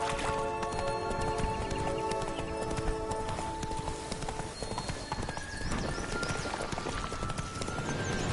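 A horse gallops with steady, rapid hoofbeats in The Witcher 3 video game, loud and continuous under layered game sound throughout.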